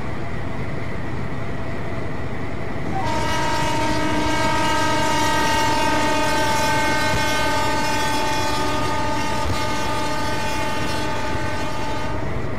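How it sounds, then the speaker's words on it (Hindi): A 12-coach EMU local train in a train simulator game rolls past steadily with a sustained horn blaring over the rumble and clatter of the wheels, loud and continuous. "और ये जो लोकल ट्रेन साइड पर घुस रही है"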